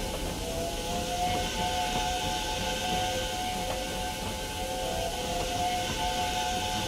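A steady, sustained whistle tone with hiss, continuous throughout, like a steam engine whistle sounding on and on.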